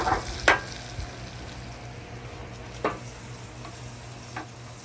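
Strips of bacon and onion fry on a flat top griddle with a constant hiss, a few sharp spatula knocks standing out at intervals, near and with no talking.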